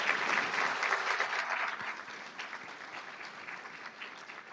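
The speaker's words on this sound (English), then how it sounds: "give a warm round of applause to your parents, your family, your friends who are here in support of you this evening." A warm round of applause rises from an award ceremony audience, dense clapping that starts strong and slowly tapers off over several seconds, heard alone without talk.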